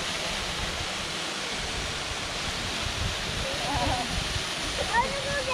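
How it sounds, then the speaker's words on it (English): Heavy flow pours over Natural Falls, a broad, steady rushing roar of plentiful water filling the whole clip, with faint splashes and a brief distant voice near the end. "The last time we were here, there wasn't this much water coming over the falls"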